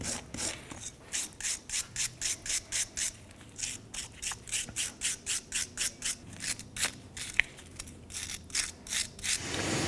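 Rhythmic rubbing strokes from cleaning rear drum brake parts on a 1994-2004 Chevrolet S-10, about two dozen steady back-and-forth rasps at close range with no talking.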